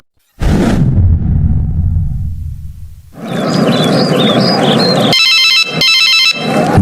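Telephone ringing in a dramatic scene, with bursts of electronic trilling ring layered over loud whooshing and rumbling effects, close and prominent with no talk.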